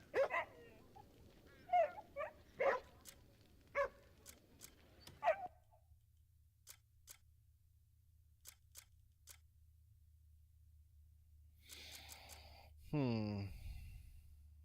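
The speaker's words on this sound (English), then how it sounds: "Give this dog some meat." A dog in the video game Crimson Desert gives several short barks and whimpers in quick bursts. Sharp clicks follow, then a long quiet stretch and a brief swelling effect near the end.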